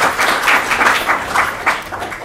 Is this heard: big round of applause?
yes